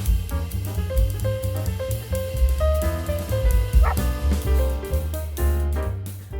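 Dogs playing in Drottningholm Palace Park on a cold November day, with yips and barks over background music, lively and close.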